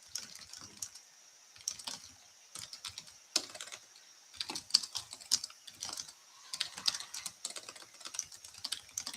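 Keys clatter on a computer keyboard in quick irregular bursts with short pauses, close and moderately loud, with no talking.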